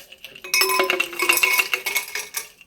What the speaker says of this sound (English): And then I take just a few ice cubes. This is going to make a rattly noise.